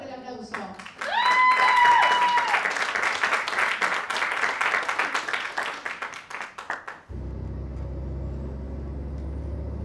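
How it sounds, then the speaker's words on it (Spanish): Dense crowd applause welcoming a dancer onstage swells for several seconds with rapid overlapping claps, a tonal whoop or cheer rising above it early on, then cuts abruptly to a low steady rumble. "recibir ahora con fuertísimo aplauso"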